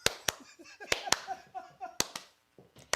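A handful of sharp, spaced-out hand claps make a slow clap on a live show. Voices talk between the claps.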